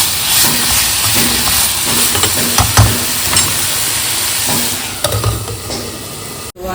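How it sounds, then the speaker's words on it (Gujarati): Kantola vegetable cooking in a pan with salt gives off a steady, close hiss and sizzle, broken by a few soft clinks and scrapes near the end. "થોડું મીઠું નાખી અને ચડવા દઈશું"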